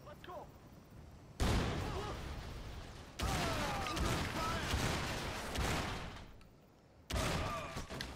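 Grenade blasts and gunfire in Crysis Remastered come as loud, broad bursts of combat noise, one starting near 1.4 s and another long stretch near 3.2 s. Someone talks over the action.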